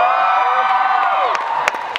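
Audience at a school event erupting into cheers and whoops for a choir's performance of Awesome God, loud and close, with high shouts sweeping over the noise, then a few sharp claps as it begins to fade.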